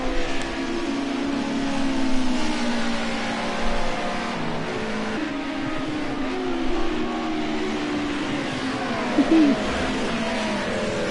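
Racing cars, Mercedes-Benz and Cosworth Group A touring cars, roar through Bathurst's mountain section, with engines droning and rising and falling in pitch as they work through the corners, heard loud and continuous from a moderate distance.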